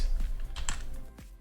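A few separate keystrokes on a computer keyboard, about four soft taps spaced irregularly, close by over a low background rumble.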